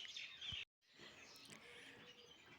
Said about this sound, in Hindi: और चिड़ियों की भी चिल्लाहट शुरू हो गई है